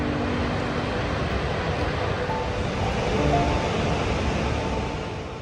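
Gullfoss, the double-drop waterfall in Iceland, gives off a steady, dense, broadband roar of rushing water that stays even throughout, heard alone with no talk.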